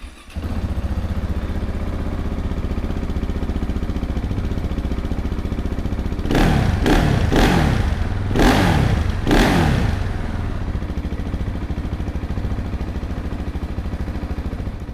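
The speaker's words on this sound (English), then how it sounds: "So let's fire this one up and have a listen." A KTM 690 Enduro R single-cylinder motorcycle idles close by with a steady thumping, then takes four or five sharp throttle blips that rise and fall back to idle.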